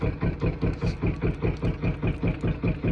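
An engine with water dripping out of it runs steadily at idle, a loud close chugging with an even rapid pulse and no voices.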